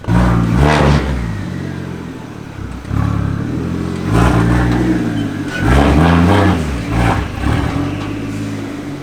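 A powerful turbocharged BMW 335i N54 engine with a single-turbo kit revs hard in repeated bursts, loud and close, rising and falling with a rough, aggressive growl.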